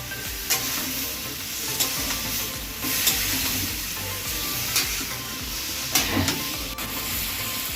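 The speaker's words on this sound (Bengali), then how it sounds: "দেখুন আমার কিন্তু জিনিসটা একদম কষা চলছে" Potatoes and tomatoes sizzle and fry steadily in a pan as they are sautéed, with a few brief scrapes and stirs breaking through the continuous crackle.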